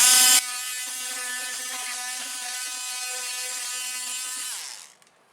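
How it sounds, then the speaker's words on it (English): Multi-tool trimming expanding foam in a dim bathroom build, a steady buzzing mechanical whir with a strong tonal drone that runs continuously for several seconds, fairly close, before winding down and stopping. "Just go along with our multi-tool."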